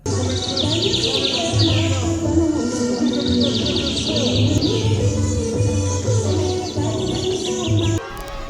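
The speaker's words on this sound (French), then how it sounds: "Et même les oiseaux sont venus apporter le message de la paix et de la cohésion sociale." Birds chirping and calling at an outdoor peace ceremony in Mali, a steady bed of twittering with repeated bright trills, cooing-like tones and crowd murmur underneath, fairly loud and continuous.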